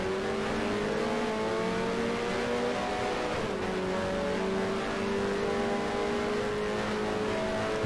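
A race car engine from the F1 Challenge 1973 racing game drones steadily and loudly, its pitch climbing through gears with a brief shift midway, the sound continuous and close throughout.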